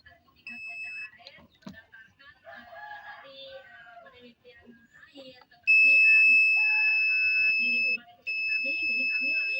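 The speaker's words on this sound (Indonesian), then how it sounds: "Oke, coba kita akan pakai mode buzzer." Multimeter in continuity buzzer mode beeping across a shorted electrolytic capacitor on the power board of an LG 32LJ500 LED TV, a loud steady electronic tone sounding twice, about two seconds then about one and a half, after close talk and bench clatter.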